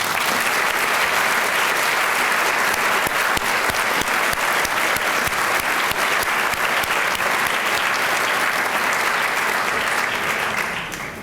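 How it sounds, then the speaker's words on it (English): Luncheon audience at an anniversary event gives Ambassador Todman a sustained round of applause, dense and even clapping filling the room for about eleven seconds before it starts to fade at the very end. "Another round of applause for Ambassador Todman"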